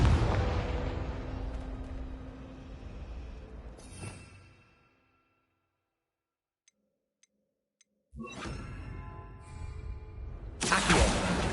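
Spell blasts and explosions from Hogwarts Legacy, loud booming bursts with crackling debris that fade into near silence broken by a few faint ticks, then the game's noise surges back with another sharp blast near the end.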